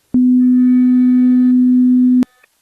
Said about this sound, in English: Here the two frequencies were identical.